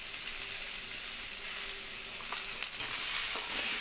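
Spices and vegetables, papaya and potato, sauté in a pan for a tilapia curry, a soft continuous sizzle and hiss with a few faint stirring touches, growing slightly louder near the end, with no one speaking.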